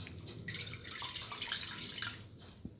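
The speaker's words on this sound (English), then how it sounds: "Pour in 100 ml of water." Water poured into a cooking pot while making chili lamb fenugreek leaf noodles, a faint steady splashing stream lasting a few seconds, alone without talk.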